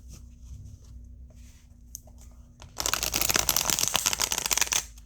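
After a quiet stretch with soft handling noises, a deck of tarot cards is riffled in a loud, rapid burst of crisp flicking lasting about two seconds.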